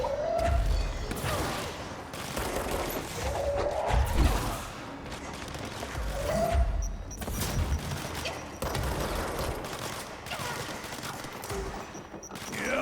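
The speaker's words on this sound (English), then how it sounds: "Exploding bombs to non-exploding bombs." Bursts of explosions and gunfire-like blasts crack out in irregular clusters, loud and sharp with debris clatter between them, no talk over the barrage.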